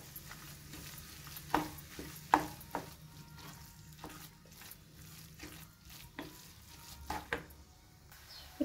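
Black carrots for halwa sautéing in a pan over medium heat, a steady soft sizzle with repeated scraping stirs and occasional utensil taps, close and with no talking.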